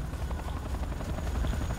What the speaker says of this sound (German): Ich höre einen Hubschrauber, aber ich sehe ihn nicht.